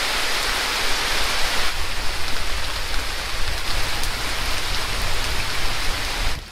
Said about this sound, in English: It's been raining here for 2 days straight, including a heavy, heavy downpour for the last 4 hours.